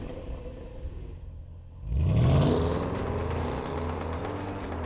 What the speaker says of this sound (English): The acceleration in this car is a huge amount of fun, made even more so thanks to the noise that it makes.